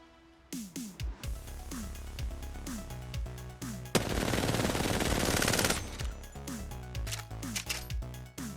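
Rapid video game gunfire from a weapon fitted with an ALC attachment, with sharp repeated shots and falling-pitch shell clinks, broken up by a dense sustained burst in the middle, loud and close.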